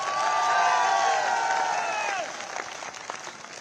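Crowd at a BJP political public meeting claps and cheers with raised voices, then the applause thins out into scattered claps.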